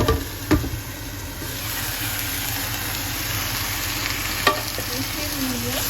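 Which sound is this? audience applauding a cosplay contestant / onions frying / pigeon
onions frying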